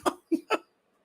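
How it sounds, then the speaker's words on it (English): Three short, sharp hiccups from a man close to a microphone, evenly spaced within about half a second and followed by silence. "As soon as I turned on the mic, the hiccups started."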